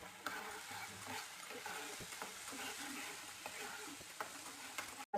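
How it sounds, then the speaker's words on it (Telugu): Fried onions and a ground paste sizzle softly in a pan while a spoon stirs them, giving a steady low crackle broken by occasional scraping knocks. "వాసన పోయేంత వరకు ఇలా కొంచెం ఫ్రై చేసుకోవాలి."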